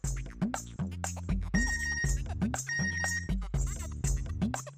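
A phone rings out with a repeating melodic ringtone alert in a sitcom scene, a steady tuneful pattern cycling several times, loud and close, with no talk over it.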